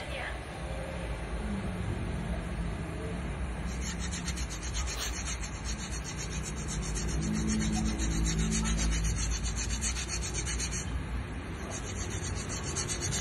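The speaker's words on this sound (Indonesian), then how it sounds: "Dan juga kampas yang satunya lagi juga kita amplas." Sandpaper rubbing back and forth over a car brake pad, a steady close scraping rasp that runs the whole time, with talk heard over it.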